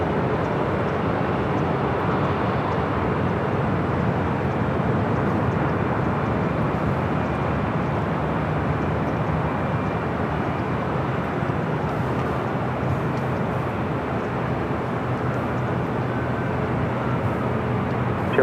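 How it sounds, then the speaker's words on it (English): Continuous rumbling drone of a Turkish Airlines Airbus A350-900 jet taxiing at LAX, broad and steady throughout with no pauses and no voices. "We also have a Turkish A350 A350-900 flight 180 heading back to Istanbul."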